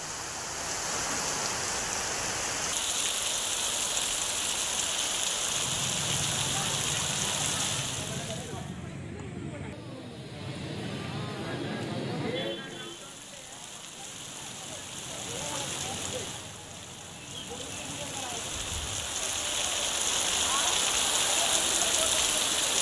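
Heavy rain pours steadily over a farm market where harvested crops sit exposed, a dense continuous hiss that dips briefly midway, with muffled voices faintly underneath.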